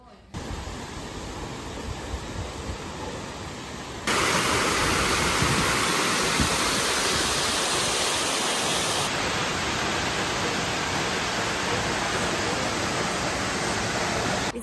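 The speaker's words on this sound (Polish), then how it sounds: "Dojechaliśmy do pierwszego wodospadu" A waterfall near Pakse, Laos roars as a steady, loud broadband rush of falling water, swelling louder partway through and holding constant with no other sounds standing out.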